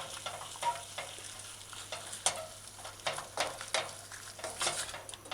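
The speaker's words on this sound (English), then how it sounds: "So you just stir it in," Pre-cooked jerk chicken pieces are stirred in a pan, giving soft scraping strokes and irregular light clatter over a faint sizzle, close and fairly quiet.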